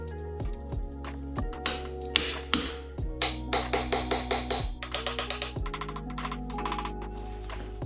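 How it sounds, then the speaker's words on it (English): A screwdriver struck with a crescent wrench stakes metal on a Porsche 911S CIS fuel injector, producing a close series of sharp metallic taps that quicken into rapid ringing strikes, with a faint background hum. "I'm gonna go ahead and just stake these in here with a screwdriver and a crescent wrench"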